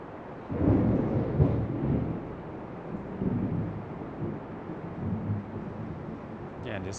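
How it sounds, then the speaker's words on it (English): Steady rain with low rumbling thunder, heard during a relaxation segment of a full yoga class; the wash of rain stays constant and fairly soft throughout, with a deeper roll swelling early on. "just soak up the sound of rain"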